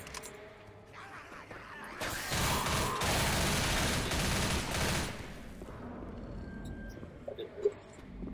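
Sustained burst of automatic gunfire in the zombie shooter game Left 4 Dead, a dense rattling volley lasting about three seconds amid game ambience, with scattered clicks and a short beep afterward.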